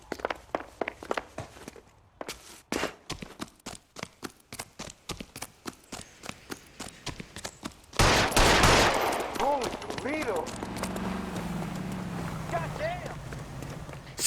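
Gunfire in the crime video game L.A. Noire: a long run of sharp, evenly spaced shots rings out, then a loud burst gives way to dense rumbling action, with game characters talking over parts of it.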